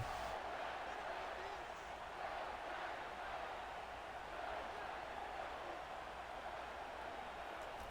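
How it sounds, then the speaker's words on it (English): Broad, steady roar of a large stadium crowd at a Peach Bowl college football game between Clemson and Arizona State in Atlanta's Mercedes-Benz Stadium, a sustained wash of cheering and noise with no clear breaks. "Trying to wait for the crowd to calm down"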